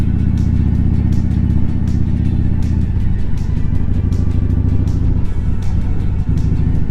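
Harley-Davidson motorcycle riding through winter traffic, its engine a loud, steady low rumble throughout with rhythmic exhaust pulses and a brief dip and shift partway through, no voices.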